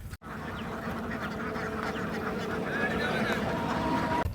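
A flock of ducks quacking nonstop, close and loud, their calls overlapping into a dense, busy chorus.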